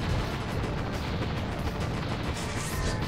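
Bombs and missiles exploding in the video game Heavy Weapon, a loud, unbroken barrage of booms and rumbling blasts that run together into one dense roar across the whole stretch.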